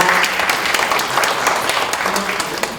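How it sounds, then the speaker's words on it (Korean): Attendees at an Ethiopia investment business forum break into loud, sustained applause, a thick wash of many hands clapping close and steady throughout. "다시 한번 뜨거운 박수 부탁드립니다"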